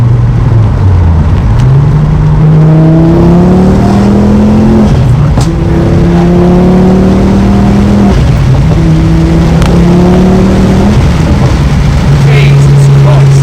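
A 330bhp hybrid turbo Mk2 Ford Focus ST accelerates hard from inside the car, the engine climbing through several gears in loud rising pulls with brief dips at each shift.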